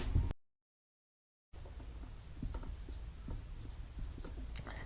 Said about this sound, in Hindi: इसको यहां लिखते हैं